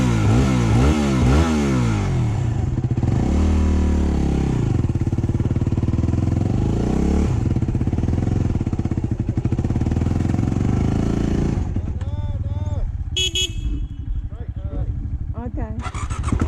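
A motorbike engine revs loudly and close, with rising and falling throttle sweeps, then sputters and drops away near the end. People talk over it.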